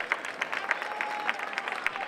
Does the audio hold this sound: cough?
no